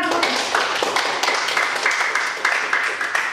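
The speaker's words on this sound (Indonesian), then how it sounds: "Oke, beri tepuk tangan." Students in a classroom clap together during a microteaching lesson, a dense, steady patter of many hands with no talking over it.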